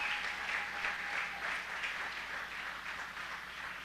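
Church congregation applauding in praise during a sermon, a steady wash of clapping from many hands that stays moderately distant and even throughout, without talking.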